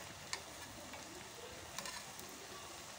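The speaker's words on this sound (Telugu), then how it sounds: "ఇప్పుడు వేడి ఆయిల్లో ఇది వేసుకొని మీడియం ఫ్లేమ్లో పెట్టుకొని కాల్చుకోవాలి" Cowpea dough patties fry in hot oil over a medium flame, giving a soft, steady sizzle with a couple of small clicks, quiet and close, with no voices.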